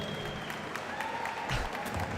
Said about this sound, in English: A big round of applause for your two fighters this evening.